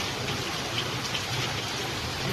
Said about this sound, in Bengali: বৃষ্টির ভিডিও করছি